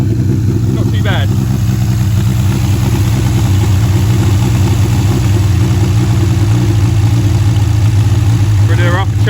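The engine of a 1959 Reliant Regal idles steadily and loudly close by, a continuous rough, throbbing putter, with short bursts of voices over it near the start and end.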